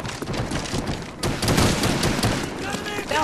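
Machine gun fire in a knife-and-gun video game: close, rapid bursts of automatic shots rattle for several seconds with booming impacts, while players talk over them.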